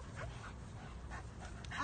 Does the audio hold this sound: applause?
no